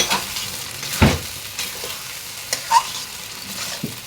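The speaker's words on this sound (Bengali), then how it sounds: "তো দিয়ে তারপরে আমি আবার ভালোভাবে নাড়াচাড়া করে একসাথে মিক্স করে নেব" Chili sauce being stirred and mixed into meat frying in a pan, with a steady sizzle under sharp scraping strokes of a spoon against the pan at irregular intervals, close and clear with no talking.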